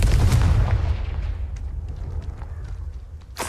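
Spell explosions from Confringo and Bombarda in the video game Hogwarts Legacy give a deep, loud boom that rumbles and fades over a few seconds, followed by a brief sharp burst at the end.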